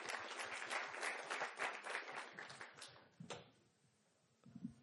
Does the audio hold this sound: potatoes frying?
no